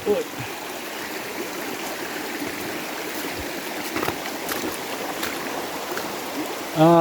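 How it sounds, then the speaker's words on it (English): A river stream rushing over rocks, a steady close broadband flow of water throughout, with a person talking briefly at the start and end. "So I'll have to cross the river once more here"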